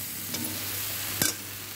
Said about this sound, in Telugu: కారం స్మెల్ పోయేదాకా వేగుతూ ఉండాలి